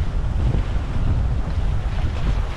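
Strong offshore wind at about 22 knots buffeting a sailboat, heard as loud, constant roaring wind noise over the microphone with the rush of waves and water beneath, continuous and close.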